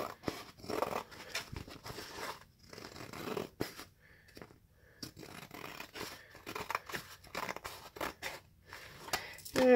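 Scissors snip through canvas along a marked line in a run of close, crisp, irregular cuts, with short pauses between strokes and no talking.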